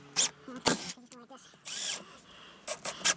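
A power drill drives screws into backing in several short bursts of whining, high-pitched spinning, separated by pauses; someone talks briefly between the bursts.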